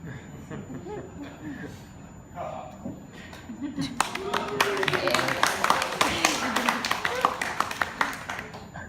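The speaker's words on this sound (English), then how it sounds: "Thank you very much for that kind round of applause." Audience applause at a comedy street show by a performer styled as an industrial blacksmith in Ballarat; scattered clapping grows into a fuller round of crisp hand claps after a few seconds, with speech over the start.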